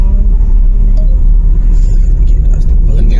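Uttarakhand Transport Corporation bus coming along a hill road near Dehradun, a heavy, loud engine rumble and road roar that stays close and steady, with a voice talking over it.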